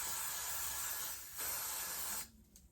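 Aerosol hair spray hisses in a steady, close stream over a deep wave wig for more than two seconds, then cuts off, leaving a few faint rustles.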